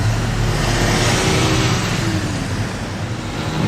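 A Ferrari 812 GTS on a street in Monaco sweeps past with a loud, steady engine roar, close by and continuous amid surrounding traffic noise.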